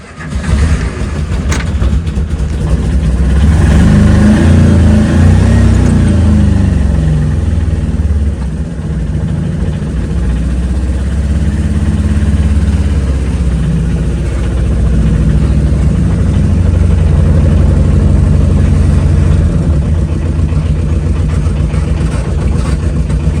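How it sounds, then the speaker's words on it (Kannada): Tata Ace truck engine pulling forward at an unloading point, a loud, close, continuous mid-pitched drone that swells slightly and holds steady, with no voices over it. "ಟಾಟಾ ಎ ಸಿ ಮುಂದಕ್ಕೆ ಹಾಕ್ತಾ ಇದ್ದೀನಿ ಅದೇ ಗಾಡಿ"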